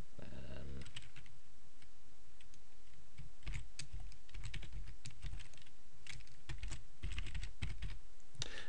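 Keys clatter on a computer keyboard in bursts of fast, close clicking with short pauses between runs, typed during a simple website-building session, with no talk.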